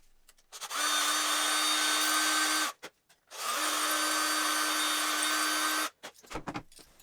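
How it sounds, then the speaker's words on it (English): A power drill whirs steadily in two long bursts separated by a short pause, drilling holes in a Melco Bravo embroidery cap frame, followed by some clattering handling noises. "So give me a second, I'm going to get this drilled out."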